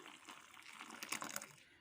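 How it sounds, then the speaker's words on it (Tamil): Water is poured into a bowl of ground mixture for pani puri water, a soft splashing stream that grows briefly louder before tapering off, faint and close with no speech. "தண்ணி ஊற்றிக்கலாம்."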